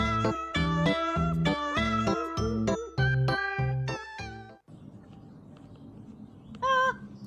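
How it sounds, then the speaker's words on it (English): Cats meow in a cat video played during a DJ show, a run of loud, tonal repeated calls filling the first four and a half seconds, then quieter noisy background with a brief high-pitched cry near the end. "you're going to love my cats video, Electra"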